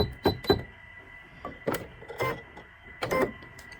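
An embroidery machine jogs its needle into position over leather for a coaster, giving short mechanical whirring and clicking bursts, about six in a row with brief pauses between, close and moderately loud.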